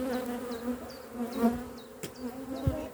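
Honeybees buzz close by while being moved to a new hive, a dense steady hum with individual bees whining past in short rising swoops and a few faint knocks.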